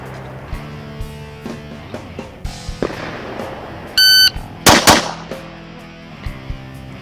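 Handgun shots from HK and Glock pistols at a range, a series of sharp, loud individual cracks spaced irregularly, with a brief electronic timer beep partway through and a tight burst of shots following it.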